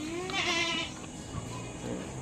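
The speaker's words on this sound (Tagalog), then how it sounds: "So ito yung mga upgraded natin na kambing." Upgraded farm goats bleat loudly and nearby in one clear, wavering cry, then fall quieter among soft shuffling sounds.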